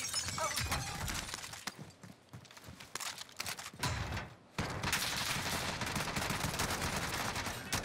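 Gunfire in the video game Warzone crackles in dense bursts and rapid volleys, loud and close, with a sharp cut partway through and continuous noisy battle sounds throughout.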